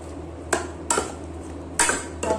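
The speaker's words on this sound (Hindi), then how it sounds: "अब इसके अंदर डालेंगे सारी कटिंग की हुई तोरी" Chopped ridge gourd is tipped into a metal cooking pan, giving four distinct clattering knocks of utensil on pan spread across a couple of seconds, close and fairly loud.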